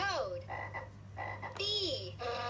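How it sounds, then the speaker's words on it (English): Toad croaking from a LeapFrog touch-and-learn animal book, a few short, rhythmic croaks played through a small toy speaker with a faint electronic hum underneath. "Toad."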